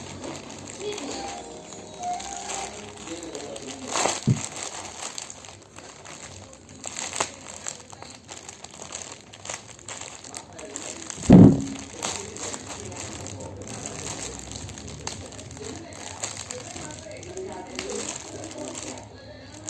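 Plastic packaging around a new dress crinkles and crumples in short bursts while it is unboxed, with one loud crushing burst midway and quieter handling noises throughout.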